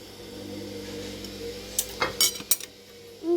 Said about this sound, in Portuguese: Um prato e uma colher.